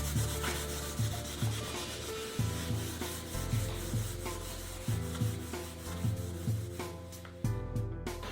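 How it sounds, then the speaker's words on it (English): Light sanding of filler on a painted leather surface, a steady scratchy rub in quick repeated strokes, close and moderately quiet, with no voices. "You need to lightly sand that down."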